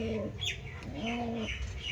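Kalanka and abluk pigeons coo softly close by, several low rolling calls overlapping with faint chirps and a light flutter of wings.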